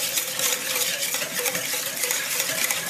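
A whisk stirring a sauce with Worcestershire sauce and salt in a bowl, giving quick, repeated scraping and clinking strokes close by, with no talk over it.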